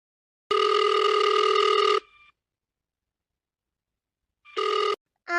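A telephone rings while a call to a doctor is placed: a loud, clear electronic ring tone sounds for about a second and a half, then a shorter burst, with another ring starting at the end and silence in between.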